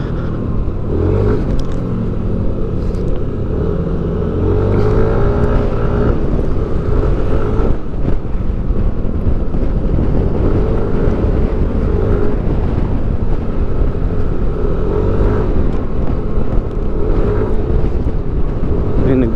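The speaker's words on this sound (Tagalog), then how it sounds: "Malakas ang hangin, Diyos ko." Strong wind buffets the microphone at a Pacific coastal view deck in Dingalan, Aurora, a heavy, continuous low roar with gusts throughout.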